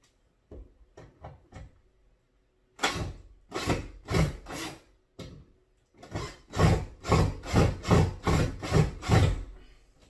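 Screws being backed out of a wooden shelf give a series of close, rhythmic creaking, grinding bursts, a few faint ones first and then louder, evenly spaced turns in two runs separated by short pauses.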